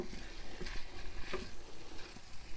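Curried pork belly frying in a pan at an outdoor camp cooking setup, a steady close sizzle with soft scraping stir strokes running underneath throughout.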